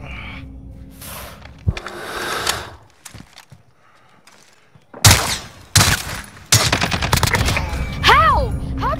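Assault rifle gunfire in Modern Warfare during a gun game match, with sharp close shots and a rapid burst of automatic fire near the end, amid game sounds and a player talking.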